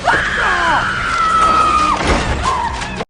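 A person imitates a horror movie character's scream, a loud, long, shrill wail that holds and wavers for nearly two seconds and then breaks into a shorter second cry, closely miked and alone.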